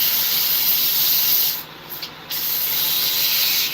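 Wood sanded by hand with 80-grit sandpaper in a home workshop gives a loud, continuous, close scratchy rubbing that drops briefly for a moment partway through, then resumes at full strength.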